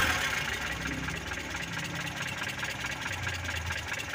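A Colt T120 engine idles after its distributor has been adjusted, giving a steady, slightly uneven low rumble with a faint irregular beat, heard alone at moderate distance.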